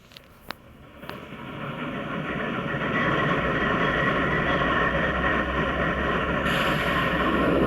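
Train engine starting up in a train video game, a couple of sharp clicks followed by a low mechanical rumble that builds and settles into a steady loud drone, with no talk.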